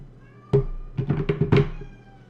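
A cat meows close by: one short call, a brief pause, then a quick run of several louder, insistent meows.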